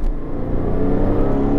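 A Porsche 997 Carrera 4 engine pulls hard under acceleration, a loud, close, steady low rumble with a rising whirring tone and no voices over it.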